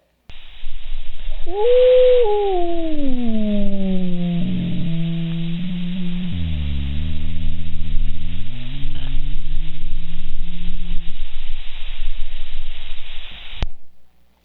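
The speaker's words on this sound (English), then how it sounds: "She made this her last howl not far from where I live." A recorded howl of a wild female wolf near Yellowstone, a single long, clear howl that rises, wavers and slowly falls in pitch over about twelve seconds, loud and alone.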